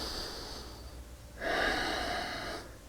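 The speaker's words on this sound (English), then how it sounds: "Breathing slowly and controlled in and out of your nose" Slow, controlled breathing through the nose during a yoga lunge stretch: a soft airy inhale, then a fuller, louder breath that holds steady for about a second before easing off.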